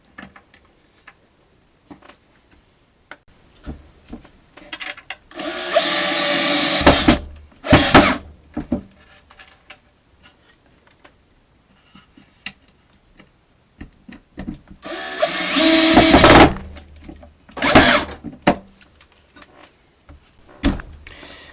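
A power screwdriver drives small screws into parts of a folding table, heard as two long, loud whirring bursts and a few shorter ones, separated by quiet stretches with light handling ticks.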